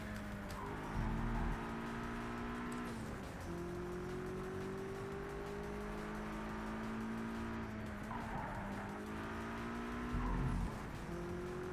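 Race car engine in the video game Project CARS 3, loud and continuous, with rising revs, quick gear shifts and downshift blips through corners, no voices.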